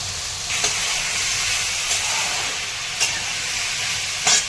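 Potato and ridge gourd frying in a pan, a loud, even sizzle that fills the clip, broken by a few brief scraping clicks of stirring, with no talk.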